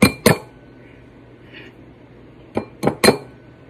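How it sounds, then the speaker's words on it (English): An egg cracked against a bowl, five sharp clinks in two groups, near and clear, with faint handling noise between them and no talking. "You're going to get an egg like this,"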